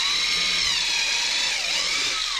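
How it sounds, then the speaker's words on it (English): A lawn mower runs steadily outside, its high, whining motor drone continuous and fairly loud, with slight shifts in pitch as it works across the lawn. "The landlord's out there mowing the lawn."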